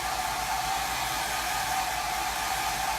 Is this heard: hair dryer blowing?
yes